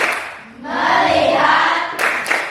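A junior high school class in Kalabahi joins in a concentration clapping game, voices chanting together in a loud wash and then sharp claps sounding near the end.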